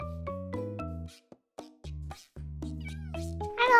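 Minecraft cats meow in a rapid run of clear, tonal in-game calls, several short meows in a row with brief pauses and a brighter burst at the end, with no talking.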